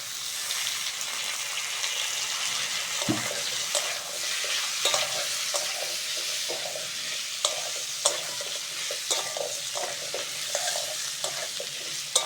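Potatoes frying with onion and green chilli in a pan, a continuous sizzle broken by repeated scraping and clattering stirs at an uneven pace, up close and without any voices.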